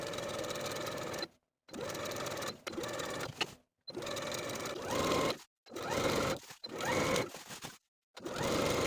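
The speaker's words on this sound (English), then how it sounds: "Now I'll sew close to my finishing stitches all the way around to finish the garment." A home sewing machine stitches around the edge of a lined pinafore dress, close to the finishing stitches, in about seven bursts of rapid whirring separated by brief silent pauses, moderately near and alone.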